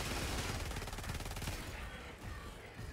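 Rapid gunfire from a pistol in Helldivers 2 while fighting Automatons, loud dense shots in quick succession with no letup, the burst thinning slightly toward the end.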